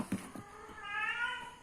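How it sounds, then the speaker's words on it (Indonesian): A cat in heat meows, a few short sounds at first and then one rising, drawn-out meow that is close and moderately loud in a quiet room. "Ngapain sih tuh kucing?"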